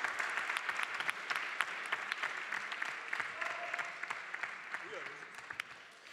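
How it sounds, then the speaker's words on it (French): An audience at a debate event claps for both teams, a dense sustained applause in a hall with a few louder claps near the front, while a voice talks over it. "On les applaudit s'il vous plaît encore, les deux équipes très très fort"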